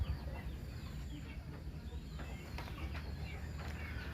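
Chickens on an organic chicken farm, scattered clucks and soft calls from several birds over a constant low farmyard murmur, moderately close and fairly quiet.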